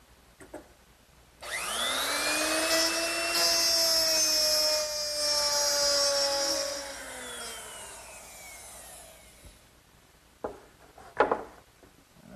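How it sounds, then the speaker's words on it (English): A router fitted with a 1/2 inch mortising bit spins up and plows grooves along a clamped straight edge in wood, whining steadily for several seconds before winding down, with scattered knocks and handling sounds afterward. "using a nice straight edge, which is clamped in place so that the router can ride against it, I'll plow out each groove using a 1/2 inch mortising bit"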